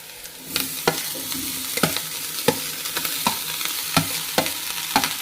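Rice stir-fried with wilted onions in a pan, a steady close sizzle punctuated by about ten sharp spatula scrapes and knocks at an even rhythm.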